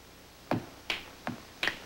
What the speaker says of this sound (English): Would you show me how you snap your fingers